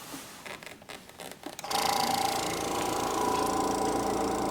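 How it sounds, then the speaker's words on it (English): A laboratory vacuum pump for a filtration step switches on after a few soft handling knocks and clicks, then keeps up a loud, steady mechanical hum and whir, close and constant, with no voices. "And I'm going to turn on the vacuum pump."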